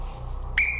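A game show host blows a single sharp whistle to start the timer in a UK quiz contest, a short bright blast near the end of a quiet moment.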